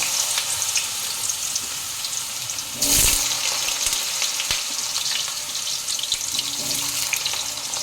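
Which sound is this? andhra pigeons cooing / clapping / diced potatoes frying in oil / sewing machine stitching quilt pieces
diced potatoes frying in oil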